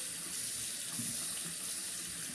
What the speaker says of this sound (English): Put some water here. Mix up the slurry and the water.